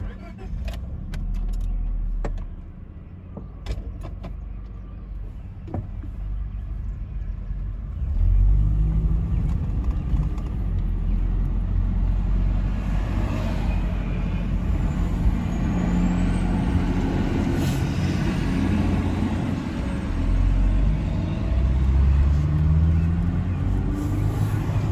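A Honda Civic with a slipping transmission drives along a road, its engine rumble and road noise heard from inside the car, with clicks and handling noises early and uneven surges in the drone later.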